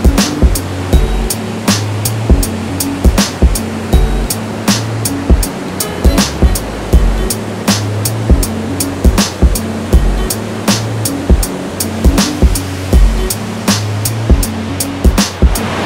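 Mae Klang waterfalls in Thailand pour in a steady, loud rush of falling water, with repeated sharp splashes or knocks cutting through the continuous roar throughout.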